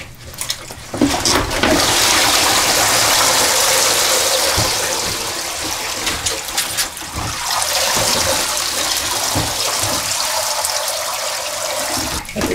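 Water drains out of a basin after washing raw wool fleece to remove lanolin, a steady close rush and gurgle that runs nearly throughout with a brief dip partway, no talking.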